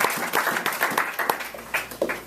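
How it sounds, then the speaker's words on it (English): Audience applause at a Street Survival School certificate ceremony, a short burst of scattered clapping from a modest crowd, fairly close and steady for a couple of seconds. "Applause is appropriate."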